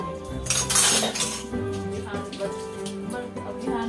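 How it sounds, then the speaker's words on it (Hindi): Dishes and utensils being washed in a home kitchen, with clinking cutlery and pots over running water, fairly close, alongside a faint voice in the background. "लौट के आने के बाद जो बर्तन वर्तन थे वो सब सारा क्लीन कर रहे हैं"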